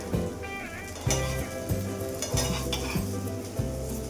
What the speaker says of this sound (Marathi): साधारण 3 ते 4 मिनिटं आपल्याला दोन्ही बाजूंनी व्यवस्थित भाजून घ्यायचे आहेत